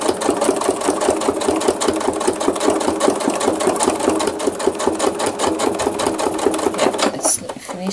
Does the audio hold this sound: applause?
no